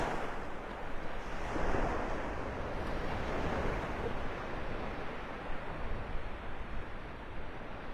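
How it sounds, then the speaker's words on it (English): Gulf of Mexico waves and surf wash onto a Florida beach at Delnor-Wiggins in North Naples, a steady broad roar with gentle surges and some wind noise, with no voices. "Got some wave action here, kicking up the surf."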